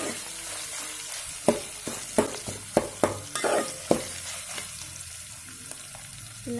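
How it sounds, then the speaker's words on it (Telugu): Spicy mutton curry frying in a pan as ginger is stirred in with a spoon, a steady sizzle broken by a run of sharp metallic scrapes and knocks, then easing back to quieter frying. "దానికోసమే అల్లం వేసుకున్న తర్వాత స్పూన్తోనే ఒకసారి కలిపేసుకోవాలి. ఒకసారి మంచిగా కలిపేసుకుంటున్నాను."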